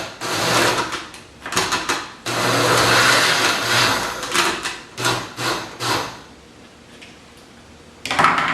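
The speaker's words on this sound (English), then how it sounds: "First, we're going to put all of our ingredients into the blender." A kitchen blender pulsing tomatoes and canned Rotel for homemade salsa, its motor whirring in several short bursts of varying length with pauses between, loud and close.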